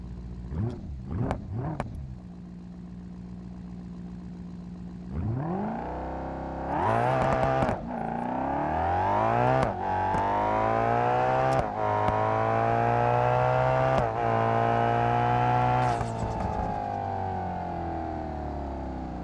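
A Citroën BX in BeamNG.drive blips its engine a few times, then launches on a drag run, revving hard up through several rising gear pulls with sharp shift breaks, loud and close.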